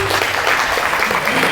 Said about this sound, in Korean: 큰 박수로 발표 부탁드리겠습니다